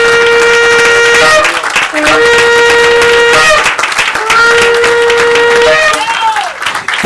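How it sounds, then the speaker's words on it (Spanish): A church congregation applauds loudly with dense, sustained clapping beneath held keyboard or organ chords, and voices mix in with the crowd. "darle un aplauso fuerte al Señor"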